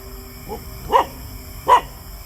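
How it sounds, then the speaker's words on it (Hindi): Dogs barking outdoors among trees: a faint yip, then two loud, separate barks about a second apart. "कुत्ते भौंक रहे हैं"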